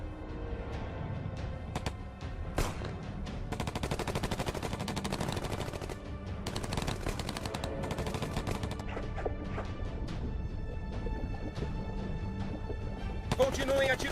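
Gunfire rakes ships in dense, continuous bursts of rapid shots and crashing impacts, with voices talking over the din throughout.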